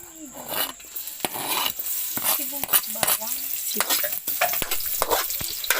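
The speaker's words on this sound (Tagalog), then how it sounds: "Yan, magigisa na kami ng igado." Pork liver igado sautés in hot oil while a spoon stirs it, giving a loud, steady sizzle broken by sharp metallic scrapes and clinks against the pan, close up, with a faint voice in the background.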